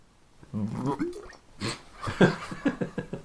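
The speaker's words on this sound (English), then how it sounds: "I was taking a sip of my drink and I was about to cough, and I just spat it all over myself" A wet gurgling splutter as liquid sprays out mid-cough, followed by sputtering coughs and breathy noises, close and fairly loud.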